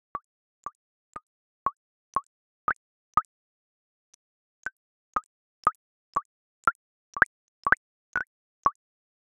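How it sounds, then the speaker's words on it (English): Simulated water bubble sounds from a fluid animation: about fifteen short, clean plops in an even rhythm against total silence, with one brief gap partway through and a few doubled pops near the end. "This allows us to generate fluid sounds such as these."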